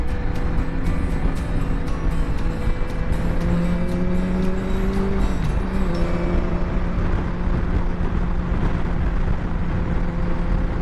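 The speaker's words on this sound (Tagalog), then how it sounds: "Bakit ang dami pa rin mga sasakyan dito?" Cars and motorcycles driving past on a road at night near Carmona, Cavite, heard from a moving motorcycle: a constant loud engine and road rumble with a rising and falling pass-by midway, wind noise on top, no voices.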